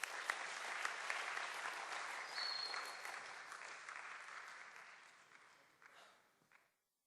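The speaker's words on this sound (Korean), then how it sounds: "박수로 맞이해 주세요" Sustained applause from a school chapel audience, steady and fairly even, then thinning out and trailing off to silence near the end.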